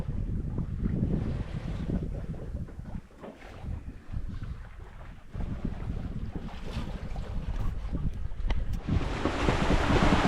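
A sailboat running under gennaker as the wind picks back up near an island on a passage from Santa Cruz to Mindelo, with steady wind rush and water hissing along the hull, gusting louder toward the end.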